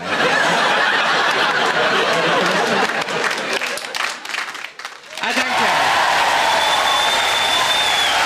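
A studio audience at a live Saturday show claps loudly and steadily, with chuckles mixed in; the applause thins to a brief lull midway, then swells back to full strength while a voice speaks briefly.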